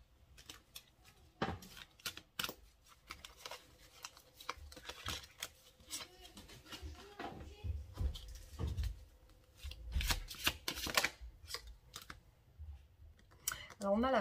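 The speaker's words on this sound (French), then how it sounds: "Alors, je vais retirer quelques cartes." Tarot cards being drawn and shuffled during a French reading, giving a run of soft papery clicks and flicks at close range, mixed with brief spoken remarks.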